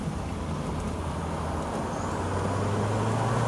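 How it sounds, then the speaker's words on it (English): Turbocharged 1986 Dodge Omni Shelby GLHS under way in gear, a steady engine and road drone with a rising tone building toward the end as the turbo spools, heard from inside the cabin. "You can hear the turbo spool."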